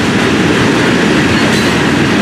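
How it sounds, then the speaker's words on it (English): Steady, loud rumbling of a train rolling past close by, with a continuous clattering roar that holds without a break. "Train working its way behind 70"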